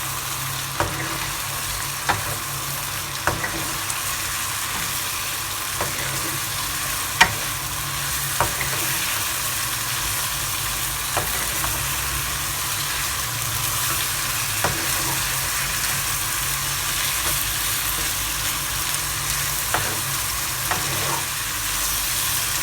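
Ground masala for Chettinad chicken sizzles steadily in a pan. A spoon stirs it with regular, sharp scrapes and taps. The sound is close and continuous, with no talking.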